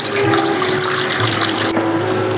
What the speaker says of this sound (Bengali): নুন চুলে ভেজানো ভাজা পনিরটা আমি এখন ছেঁকে নিচ্ছি